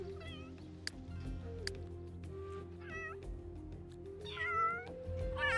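Several cats in The Sims 3 meow repeatedly as they crowd around to groom, with a mix of short meows and drawn-out caterwauling calls over a steady low game-music background.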